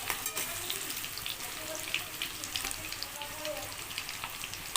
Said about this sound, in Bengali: এবারে আমি এর মধ্যে দিয়ে দিচ্ছি চিকেনের টুকরোগুলো।